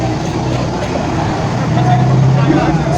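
A full tour bus carrying a group from a mosque community to Bali, steady loud engine drone and road rumble from inside the cabin, with passengers talking throughout.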